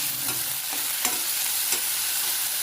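Ginger-garlic paste sizzles in a hot pan while a spoon stirs it, a steady close frying hiss broken by a few soft scraping strokes, with no talking.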